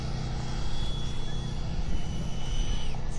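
An upgraded FMS Pilatus PC21 model airplane flies its maiden flight at Fritz Field, a thin high electric whine sweeping over a rumbling, windy outdoor background.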